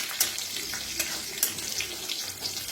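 Curry leaves roasting in a pan for moong dal kadhi, a steady dry sizzle with a few sharp crackles and light stirring scrapes, close and alone.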